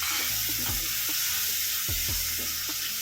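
Tomatoes and onions sautéing in a hot clay pot for a Kerala fish curry, a loud constant sizzle with scraping stir strokes at irregular intervals, no voices.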